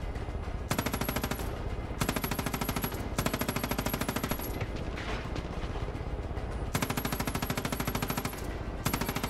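Rapid automatic gunfire in the Far Cry 5 video game, long sustained bursts of machine-gun fire broken by short pauses, loud and dense, with no talk over it.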